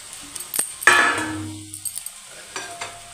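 Potatoes drop into hot spiced oil in a pan with a sudden loud hiss and sizzle that fades over about a second, surrounded by a few light clinks of a utensil against the pan.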